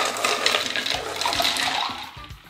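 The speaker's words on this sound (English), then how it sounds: "I've got some ice cubes that I'm gonna drop in." Ice cubes drop into about a gallon of liquid, making a splashy, watery rush followed by a few short plunks as the cubes settle, close and fairly loud.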